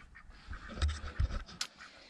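Several short nasal quacks from lame ducks, close by, with a brief rustle between the calls and no talking.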